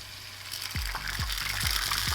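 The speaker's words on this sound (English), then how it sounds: "So I'll crack my egg in here." An egg cracked into a hot pan fries with a rising hiss, punctuated by several soft, regular low thumps close by, with no voices.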